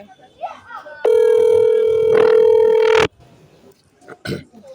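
A telephone call rings on an unanswered unknown number, one steady electronic ring tone lasting about two seconds, loud and clear, with faint noises and a brief knock around it.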